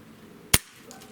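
A single sharp crack from a JTS Brawn air gun firing, close and loud, followed by quiet.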